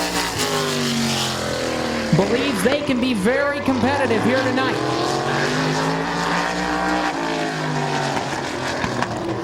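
A sprint car engine roars and revs at a dirt speedway, loud and sustained with rising and falling pitch, while an announcer talks over it throughout.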